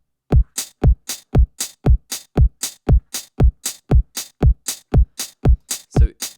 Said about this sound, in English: Now I added a closed hi-hat every other one.